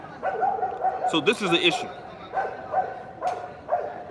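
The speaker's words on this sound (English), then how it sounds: "This dog about to bite the hell out of this damn other dog" Two dogs face off, about to fight. A quick burst of yappy, rising barks rings out in the middle, while someone talks throughout.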